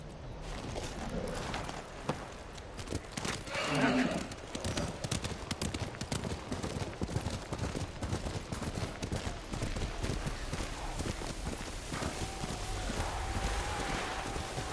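Steady clip-clop of horse hooves at a walking pace in the video game Ghost of Tsushima, continuous and close, with wind-like noise underneath and no talking.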